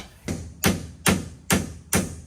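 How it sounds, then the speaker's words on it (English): Five sharp metal-on-metal hammer blows drive a 14 mm socket onto the locking bolt of a spare tire on a 6.0 truck, struck at an even pace about half a second apart, close and loud. "sacrifice a 14-inch socket, hammer it on there, and you can get your spare tire out"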